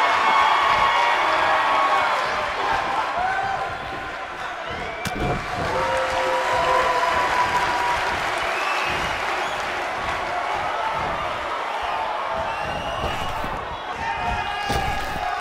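A sold-out arena crowd in the WWE 2K19 video game roars and cheers steadily throughout, with sharp slams from the ring breaking through, while a commentator's voice runs over the noise.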